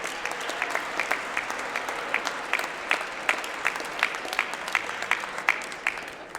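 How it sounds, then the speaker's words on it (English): Sustained applause from a homecoming audience greeting the 2014 court candidates, steady clapping with sharp individual claps punctuating it throughout, moderately loud and without speech. "please give a round of applause for the 2014 Homecoming Court candidates"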